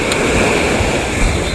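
Surf washes steadily onto Kedonganan beach in Bali with wind buffeting the microphone, a continuous loud roar of breaking waves and gusts with no voices.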